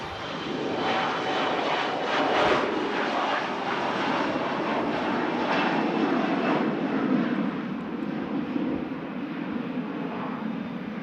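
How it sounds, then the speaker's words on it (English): CRJ jet airliner departing Manchester Airport, a steady broad engine roar at moderate distance that holds through the whole stretch and eases slightly toward the end, with no talking. "Mega departure there. CRJ."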